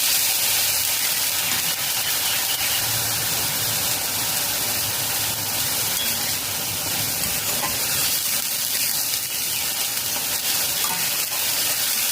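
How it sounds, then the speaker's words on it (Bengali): Onions fry over a medium flame in oil with cardamom and cinnamon for a chicken curry, a loud, steady sizzle and hiss close up with faint stirring, no voices. "মিডিয়াম ফ্লেমে পেঁয়াজ ফ্রাই"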